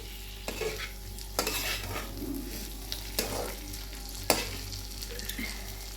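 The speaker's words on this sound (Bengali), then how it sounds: "আমি টমেটো কুচো দিয়ে দিলাম দিয়ে এখন নাড়াচাড়া করবো" Chopped tomato and softened onions fry in a pan while being stirred, a soft sizzle with several sharp scrapes of a spoon against the pan, fairly quiet and with no voices.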